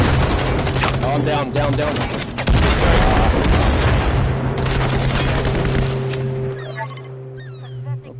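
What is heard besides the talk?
grenade explosions and gunfire in a video game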